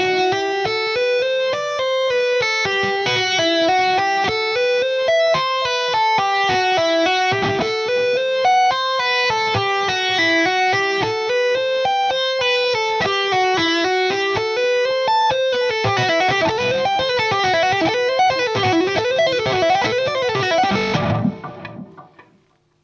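Electric guitar playing a tapping lick with extra gain, a steady cascade of distorted, sustained repeating notes rising and falling in a looping pattern, loud and alone, shifting to a busier pattern before cutting off at the end.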